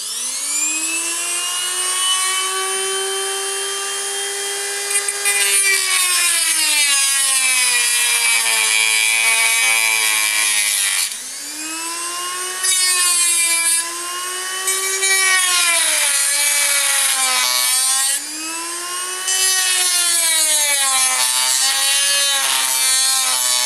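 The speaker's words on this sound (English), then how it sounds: "I've got my cutting tool, my cutting Dremel." A Dremel rotary cutting tool bites into a Motorola DP3600 radio battery pack with a loud, sustained high whine whose pitch dips and rises as the load changes, broken by a few short pauses.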